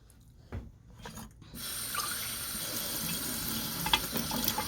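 Water runs and splashes from plant propagation containers, starting with a few drips and then turning into a steady, close rushing flow like a tap filling a sink.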